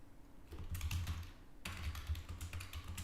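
Steady keyboard typing, a quick run of key clicks with a short pause partway through, fairly close and without any talking.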